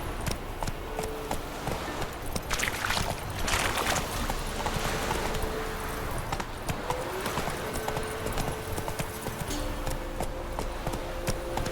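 Roach, Geralt's horse in The Witcher 3, gallops with rapid rhythmic hoofbeats over the game's ambient score and wind, staying steady and close throughout.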